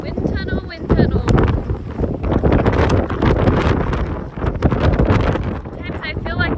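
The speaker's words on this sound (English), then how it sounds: "I just crossed the Royal Gorge Bridge and it is so windy." Strong gusting wind on the Royal Gorge Bridge batters the microphone in a loud, continuous roar that swells and dips, with a person speaking underneath.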